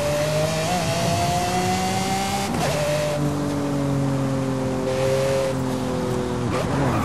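Apollo Intensa Emozione supercar in a racing video game, its engine loud and close with steady high revs rising through the gears, punctuated by sharp shifts around the midpoint and again near the end, with no talk.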